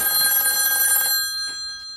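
A game room telephone bell rings loudly and close for about a second, then cuts off and leaves a quiet, fading room tone.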